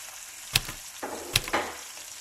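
Spices and onion fry in oil in a large pot for vegetable achard, a close hissing sizzle with several scraping stirs and clinks, no talking.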